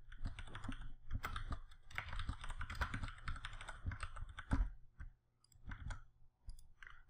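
Computer keyboard typing as organisation unit details are entered, a steady close run of soft key clicks for several seconds that pauses briefly and then resumes with a few more taps, with no talking.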